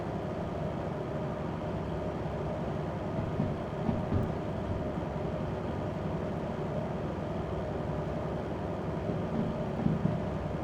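Thunder in the train game Derail Valley rolls as a steady low, distant rumble under constant rain-like noise and a train's running drone, with a couple of slightly louder swells near the middle and end.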